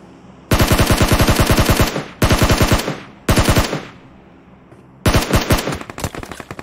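Loud bursts of automatic gunfire from a shooting video game, four sustained rapid-fire sprays separated by short pauses, the last trailing off into scattered shots.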